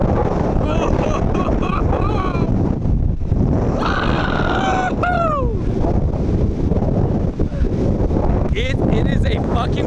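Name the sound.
strong wind during a rainstorm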